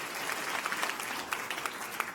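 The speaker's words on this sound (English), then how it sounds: "another round of applause, please, for Bonumose Biochem" A startup-pitch audience at FoodBytes! SF 2017 gives a round of applause for Bonumose Biochem, steady moderate clapping from a modest crowd with a few sharper individual claps, somewhat distant.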